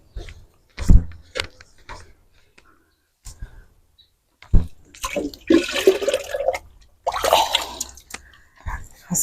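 A potted pepper plant is watered in an urban garden: intermittent splashes and trickles of water hitting soil close by, with pauses between pours and clicking handling noises, while a person talks.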